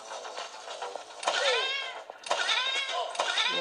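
A cat-themed gun in a mobile video game lets out a few bright, rising-and-falling meows in short bursts, loud and close, with excited talk mixed in around them.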